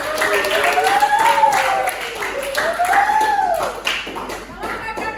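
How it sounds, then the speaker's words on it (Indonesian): Classroom audience at a high school lesson claps together, a brief steady patter of hands under a couple of overlapping voices. "Oke, terima kasih tepuk tangan."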